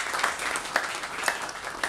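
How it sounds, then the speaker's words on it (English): An audience at a conversation event claps to welcome author Aditya Adhikari, a soft, steady patter of applause with a few sharper individual claps standing out. "Can we have a big round of applause for Aditya Adhikari?"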